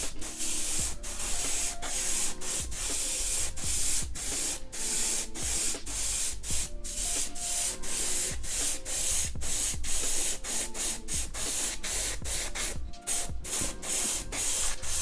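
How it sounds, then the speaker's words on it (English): A Games Workshop spray can lays paint onto Tyranid Leaper miniatures in short repeated bursts, each a close, loud hiss separated by brief gaps, with faint rattling between sprays. "I need to spray the paint on thicker."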